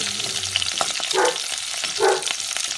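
Food sizzles in a pan of oil while cooking an Indian meal, a steady close frying hiss with occasional stirring scrapes.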